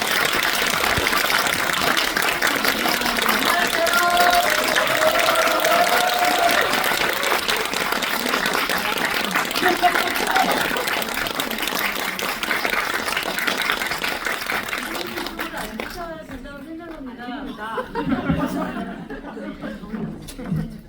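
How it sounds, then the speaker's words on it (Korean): Enthusiastic audience applause welcomes a film director and actresses at a post-screening guest talk, with laughter and chatter mixed in; the clapping stays strong for about fifteen seconds, then fades as voices and chuckles take over. "큰 박수로 환영해 주시면 감사합니다"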